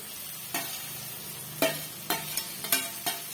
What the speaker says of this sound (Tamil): இதையுமே வந்து நல்லா வந்து வதக்கி விட்டுக்கலாம்